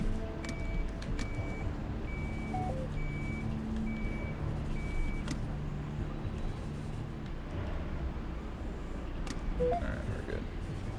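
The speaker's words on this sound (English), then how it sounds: "Keep hearing a beep." Intermittent high beeping, like a reversing alarm, sounds over a steady engine rumble in a video game, repeating in short evenly spaced pulses through the first half and returning faintly near the end.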